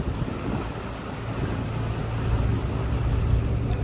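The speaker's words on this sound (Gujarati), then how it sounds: "બોટ જો પાણીનો પંખો કેમ કેટલું પાણી કાઢે છે." A boat's water pump forcefully discharges a stream of water, giving a steady, close, broadband rushing and splashing roar that swells slightly toward the end, with no voices.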